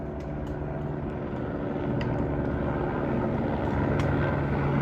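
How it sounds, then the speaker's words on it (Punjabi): A steady droning rotor and engine hum from a helicopter passing overhead on the mountain trail between Govind Dham and Govindghat, constant and fairly loud throughout. "ਇੱਥੇ ਰਸਤੇ ਦੇ ਵਿੱਚ ਫੇਰ ਹੈਲੀਕਾਪਟਰ ਆਇਆ"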